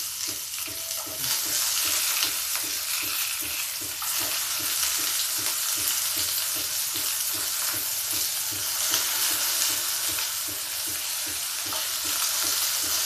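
Chowmein noodles fry in a hot pan at home with a loud, continuous sizzle, close up, broken by rhythmic scraping as they are stirred, with no talking.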